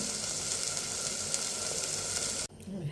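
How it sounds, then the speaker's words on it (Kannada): Water is poured into a pressure cooker holding rice for vegetable pulao, making a steady, loud hissing rush that runs for about two and a half seconds and then stops abruptly, with no one speaking. "1 ಲೋಟ ಅಕ್ಕಿಗೆ 3 ಲೋಟ ನೀರು ಹಾಕ್ತಾಯಿದ್ದೀನಿ"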